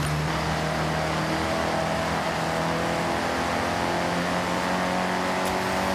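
A car engine roars steadily and continuously while racing in Forza Horizon 6 through the Japanese countryside, with sustained revving and no pauses across the whole stretch.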